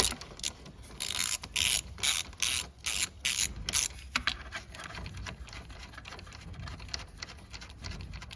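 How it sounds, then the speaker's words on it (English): A ratchet wrench works a 19 mm bolt on the tie rod of a Honda Foreman 4x4 ATV, giving rapid clicking bursts in quick strokes, loud at first, then softer and more scattered. "Now take that bolt out."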